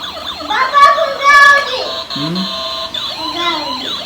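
Rising and falling ambulance or police siren wails in short bursts, loud and close at a fair, with a voice chiming in between.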